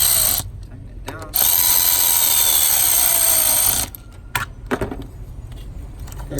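Ratchet wrench tightening a new evap purge valve on a 2012 Ford Mustang GT, rapid clicking bursts close up, one long stretch with several shorter ones around it.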